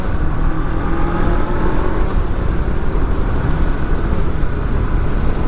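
A 2013 Honda CB500X motorcycle accelerates on the road, its engine drone mixed with a constant rush of wind and road noise, loud and close throughout.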